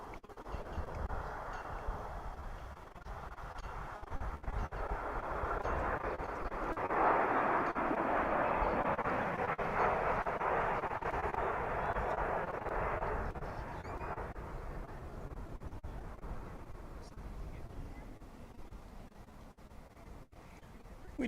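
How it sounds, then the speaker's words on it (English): Boeing 787 Dreamliner landing at DFW Airport, a distant jet roar that swells gradually to a broad peak midway and then slowly fades into faint wind and background noise, with no talk. "Here's a Dreamliner coming in from Tokyo."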